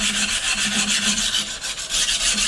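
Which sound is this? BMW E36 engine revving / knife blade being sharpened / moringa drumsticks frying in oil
knife blade being sharpened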